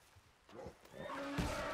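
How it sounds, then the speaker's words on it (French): A horse in the video game Red Dead Redemption 2 lets out a rising whinny with snorting, fairly close but soft, amid faint game background sounds. "Cheval."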